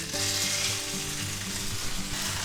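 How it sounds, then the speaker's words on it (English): A ribeye steak sears in a smoking-hot oiled pan, giving a loud, continuous crackling sizzle with bursts of spitting fat throughout. "Now we're going to take our nice ribeye steak, and we're going to put that right in there, just like this."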